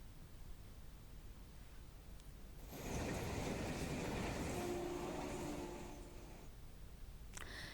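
A train runs along the rails, its rumbling roar rising suddenly to a loud steady wash of wheel and carriage noise, then easing back to a quieter background; no voices.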